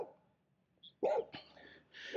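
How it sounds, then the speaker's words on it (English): A pit bull behind a gate barks a few times, loud and fairly close in a quiet outdoor residential setting, short sharp barks in a small burst after a near silent start. "there is a cute pit bull barking at me"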